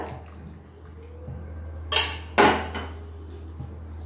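Ginger black tea is strained into two cups, with two quick clinking bursts of metal against ceramic close by in an otherwise quiet kitchen.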